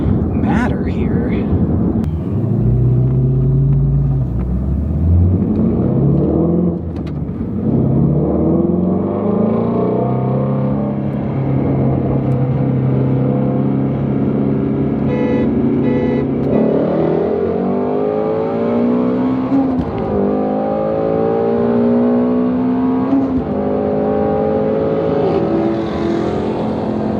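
A Dodge Challenger Hellcat Redeye and a Mustang Shelby GT350R accelerate hard from a 40 mph roll, loud engines climbing through rising revs with shifts between gears, roaring close and continuous for nearly half a minute.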